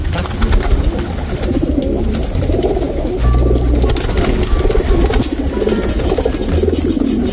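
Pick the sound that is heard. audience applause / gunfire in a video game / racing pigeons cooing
racing pigeons cooing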